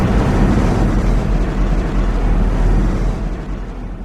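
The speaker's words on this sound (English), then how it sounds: "Another atomic explosion." A huge atomic bomb blast in the Garry's Mod video game, a loud, sustained roar of low rumbling noise holding steady for about three seconds and then tailing off, with no talking.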